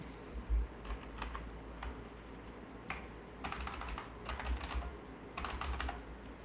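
Rapid typing on a computer keyboard, with bursts of key clicks in uneven clusters separated by short pauses, close and fairly quiet with no talking.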